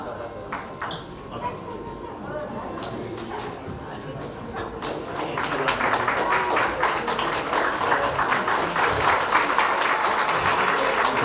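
Audience applause at a musical album launch event, starting as scattered claps under a voice, then building midway into fuller, denser clapping that carries on to the end.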